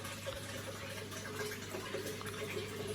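Water pouring into a turtle tank, a steady continuous rush and gurgle of filling liquid with a low constant hum beneath, close and unbroken throughout.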